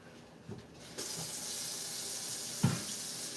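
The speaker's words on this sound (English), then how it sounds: "I'm going to wash my hands real quick." Hands washed under a running kitchen tap, a steady close stream of water with a few louder splashes as the hands move through it, no voices.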